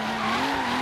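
Tires skid in a sustained screech as a car drifts in Forza Horizon 3, a steady loud squeal over engine tone filling the brief moment without any talk.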